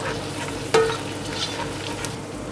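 Carrots and celery stirred in a hot pan give a soft, steady sizzle, broken by one sharp scrape or clink of the utensil near the start and a few lighter scraping touches afterward.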